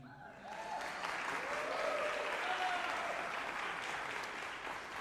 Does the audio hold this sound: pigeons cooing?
no